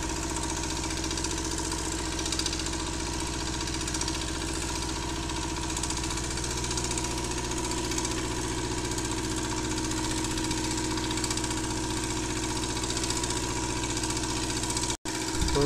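Concrete needle vibrator running while plinth beam concrete is compacted on a building site, giving a loud, steady mechanical drone with a low hum that holds almost unbroken throughout, ending in a sudden brief cutoff near the end.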